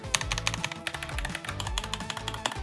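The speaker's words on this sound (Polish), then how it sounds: "to jest klawiatura za 200 zł i ona klika przyjemnie" Rapid clicking of a budget mechanical keyboard's keys, a steady stream of close, crisp taps with a few louder strokes, no voices.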